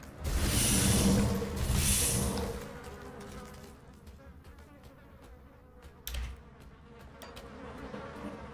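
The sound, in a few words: insects buzzing in the video game Grim Dawn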